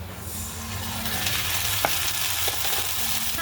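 Onion and green chili frying in a pan with turmeric paste, a steady close hiss of sizzling oil with a few faint clicks of a utensil, no voices.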